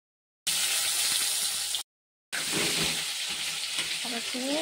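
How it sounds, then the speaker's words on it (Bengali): Thin dried slices coated with turmeric fry in hot oil with a loud, steady sizzle, cutting out briefly before resuming; faint voice-like murmurs surface near the end. "একটু হলুদ মাখিয়ে এগুলো ভালো করে আর ভেজে নেব"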